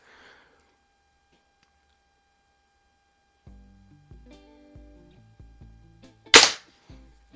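A 1995 Daisy 499B lever-action target BB gun fires Umarex BBs at a magnetic target, giving several light clicks and rattles followed by one sharp, loud shot, then a faint click, with no talking.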